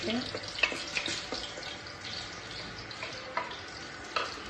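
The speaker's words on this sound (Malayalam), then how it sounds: "അത് നല്ലോണം മൂപ്പിച്ച് വരുന്ന വരെ ഇളക്കി കൊടുക്കുക കേട്ടോ" Dried red chilies frying in hot oil in a pan while being stirred, a steady close sizzle broken by occasional scraping clicks of the spoon, with no voices.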